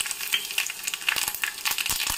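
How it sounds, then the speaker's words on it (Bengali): Dried red chillies and black mustard seeds temper in hot oil, crackling and sizzling up close with quick popping bursts and occasional stirring scrapes. "আর এখানে নিয়ে নিয়েছি শুকনো লঙ্কা আর সর্ষে, কালো সর্ষে, তো সেটাই ফোড়নে দিয়ে দিচ্ছি এখন"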